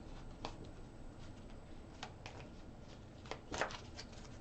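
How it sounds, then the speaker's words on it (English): Tarot cards shuffled by hand in scattered soft bursts, with a louder flurry of flicking and tapping near the end, close up and quiet. "One more shuffle here, please"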